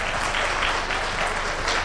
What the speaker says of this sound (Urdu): آپ سب کی تالیوں کی گونج میں تشریف لاتی ہیں عائشہ انور.